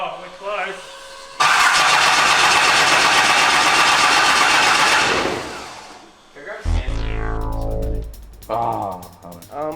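A 6.7 Cummins diesel engine with a compound turbo in a 4x4 Chevrolet is cranked. A loud, harsh, sustained roar lasts several seconds and then winds down in a falling whine, with voices nearby.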